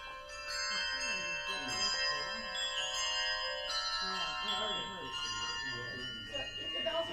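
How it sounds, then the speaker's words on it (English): Two handbells rung together using the four-in-hand technique give bright, sustained ringing tones, struck several times in succession so the chords overlap and decay, close and clear, with no talk. "to ring both bells at the same time"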